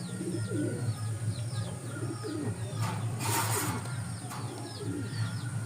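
A male pigeon in a loft coos repeatedly in low, rolling calls, close by, while other birds chirp and a brief flutter or rustle rises midway.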